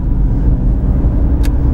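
A car's engine hums low and steady in 4th gear while the driver feathers the throttle, a continuous close rumble of road and motor noise with no talk.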